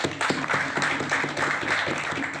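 Brief burst of audience clapping for teachers, steady and fairly loud throughout a short stretch, with a hall-like wash behind it.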